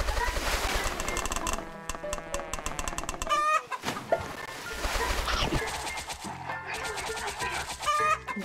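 Chickens cluck in an egg farm video game. Busy, loud game audio carries repeated clucks and squawks together with rapid bursts of electronic effects.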